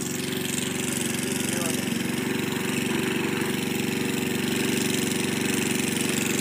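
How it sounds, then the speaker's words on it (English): A lawn mower engine runs steadily throughout while cutting grass, a continuous, fairly loud drone with an even rumble and no breaks. "my dumb cousin mowing the grass"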